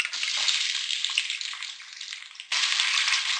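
Onions hit hot ghee with fenugreek seeds and whole red chillies, a bright hissing sizzle that softens, then surges loudly again near the end.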